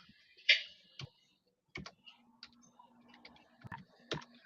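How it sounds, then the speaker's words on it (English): Computer keyboard typing during a live sports talk show, heard as sparse separate clicks and taps spread across a few seconds, quiet and close, with no talk. "I had to do a quick typing right quick"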